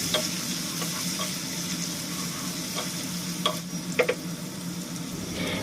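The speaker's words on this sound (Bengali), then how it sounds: "এবার ভালোভাবে নেড়ে চেড়ে পেঁয়াজটা ভেজে নেব" Onions fry for chicken curry in a quiet, steady sizzle, with a few sharp stirring clicks and scrapes near the middle of the clip.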